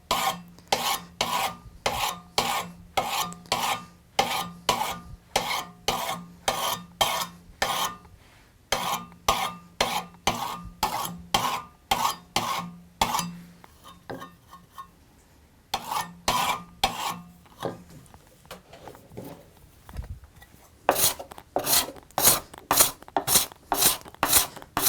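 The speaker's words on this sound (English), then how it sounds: "And now I can go to the burnisher." A steel burnisher drawn along the edge of a card scraper to turn a hook, making a series of sharp, rhythmic scraping strokes close up, broken by a few short pauses before resuming.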